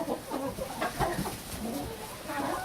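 Several chickens cluck and squawk continuously at close range in a farmyard coop during a snowy day, with overlapping calls and no speech.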